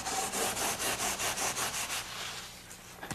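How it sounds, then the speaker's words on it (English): A trowel or screed board scrapes across a mortar bed being floated for tile, sounding as a dozen rhythmic gritty strokes close up, which then give way to softer scraping and a small knock. "The excess from the first screeded portion is pulled back and distributed, packed down, and finally screeded off again."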